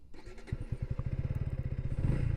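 A KTM Duke 160 motorcycle engine cranks and catches, settling into a fast, even thumping idle that grows slightly louder, heard up close with no talk.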